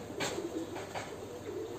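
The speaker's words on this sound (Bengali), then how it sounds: "আর এখানে আরও কয়েক জোড়া কবুতর আছে।" Pigeons softly cooing at a pigeon farm, several low, repeated coos spread across the moment at moderate distance with faint background hiss and no talking.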